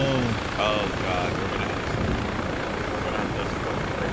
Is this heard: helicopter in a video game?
yes